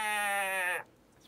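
A man imitates a sheep with his voice, producing one loud, drawn-out wavering bleat that lasts under a second and then cuts off into near silence.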